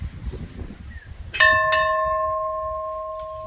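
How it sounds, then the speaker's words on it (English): An old plantation bell in Curaçao gives a single loud strike with a second quick hit, then a long, clear metallic tone slowly decaying; faint background noise before it. "here we are with the bell that would call the slaves to get ready in the morning"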